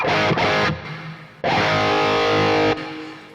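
Distorted Kramer Nightswan electric guitar on the bridge pickup at full plays crunchy rock chords in two bursts, with a short pause between and a sustained ringing chord that cuts off sharply.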